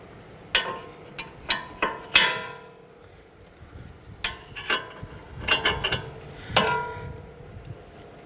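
A 22mm wrench loosens the nut on a lower control arm bushing mount of a Honda Pilot. Sharp metallic ratcheting clicks and clinks come close by in short irregular bursts, with quieter pauses between them.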